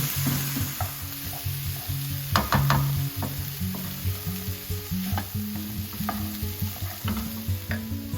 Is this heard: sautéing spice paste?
yes